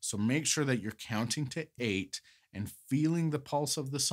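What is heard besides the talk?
None of the usual background noises is heard.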